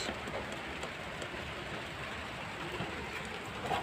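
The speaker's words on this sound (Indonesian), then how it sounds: "karena saat ini mulai terjadi gerimis" Light drizzle beginning to fall outdoors in a grape-growing area, a soft, steady hiss of fine raindrops on surfaces, faint and even with no voices.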